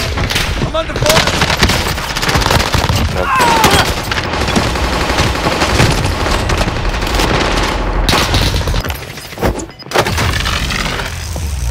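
Dense, loud gunfire from an online trios battle game rattles almost nonstop in automatic bursts with booming impacts, while players talk over the shooting.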